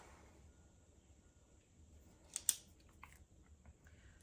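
Scissors cutting paper for a binder, a quiet close snip or two in the middle of an otherwise hushed room.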